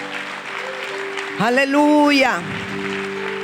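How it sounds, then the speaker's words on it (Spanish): A church congregation claps in a steady wash of applause while a single voice calls out loudly over it. "denle un aplauso al Señor"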